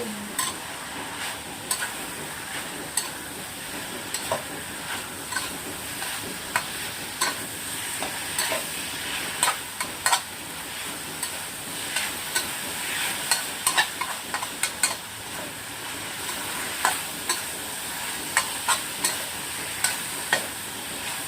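Holy basil leaves and beef stir-fry in a hot pan for a spicy Thai krapao, giving a steady sizzle broken by frequent sharp clicks and scrapes of a utensil against the pan, with no talking.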